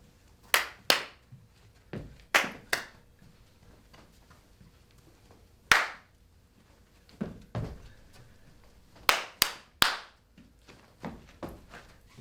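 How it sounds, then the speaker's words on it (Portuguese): Sharp single hand claps in a fourth-grade PE class signal movements to the pupils, coming in small spaced groups of one, two or three, crisp and fairly close, with quiet gaps between. "prestar atenção na quantidade de palmas para saber qual movimento vai fazer"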